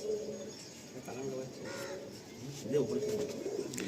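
Lively pigeons and their young coo softly in a loft while a person talks nearby and other faint chirps drift in the background.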